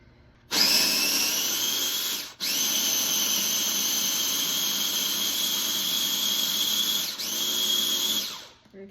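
Food processor blending chickpeas with aquafaba for hummus: a loud, steady high-pitched motor whir that starts abruptly, cuts out briefly, then runs on before winding down.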